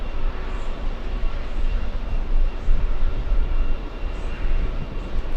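A Virgin Atlantic Airbus A350-1000 on final approach, heard as a steady, fairly loud broadband jet roar that holds level throughout without a clear rise or fade, with no talk over it.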